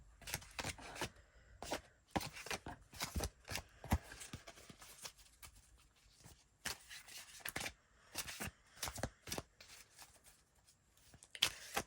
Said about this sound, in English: Now we'll shuffle these cards.